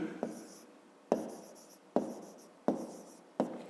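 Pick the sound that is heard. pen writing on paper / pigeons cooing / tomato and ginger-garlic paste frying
pen writing on paper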